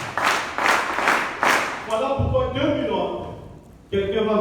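Congregation applauding in church to acclaim the Lord: a burst of dense clapping for about two seconds, then a voice speaking, with clapping bursts fading into talk.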